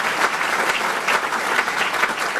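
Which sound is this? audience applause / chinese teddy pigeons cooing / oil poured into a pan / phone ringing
audience applause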